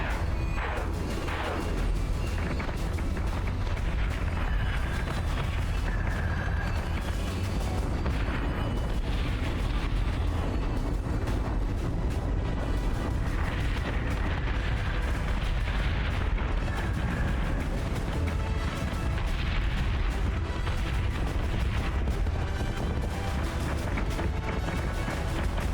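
Artillery fire in the space-combat game Battlestar Galactica: Deadlock keeps up a dense, continuous booming barrage, heavy low rumbles and bursts layered with steady loud battle noise throughout.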